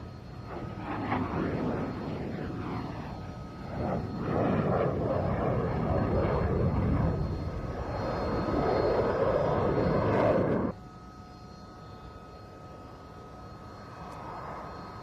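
An F/A-18 Hornet jet fighter making a slow high-alpha pass at an air show, a broad roaring engine rumble that builds and holds, then drops sharply to a quieter distant drone.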